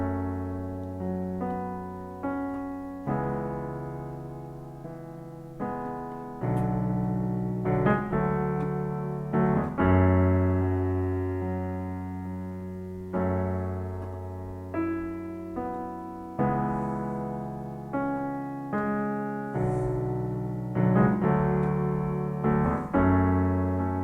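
Solo piano plays an easy accompaniment to the verse of a song, with steady sustained chords and low bass notes restruck every couple of seconds, clear and close with no voice.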